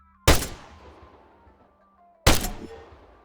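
Two sharp gunshots about two seconds apart, fired at targets in ArmA 3 during boot camp training. Each is a loud crack with a long decaying tail, and there is nothing else between them.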